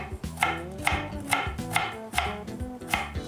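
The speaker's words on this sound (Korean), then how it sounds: "그리고 당근 가늘게 채 쓸 거예요." Knife chopping carrots into thin julienne strips on a cutting board, about eight crisp evenly spaced cuts in a steady rhythm, close and clear, with no talk.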